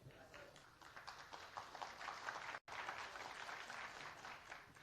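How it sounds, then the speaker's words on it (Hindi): An audience at a Tiprasa cultural festival in Bangalore breaks into sustained applause, a dense wash of many hands clapping that carries on steadily, with a brief cut near the middle. "ये जो आप लोग ताली मारा ना,"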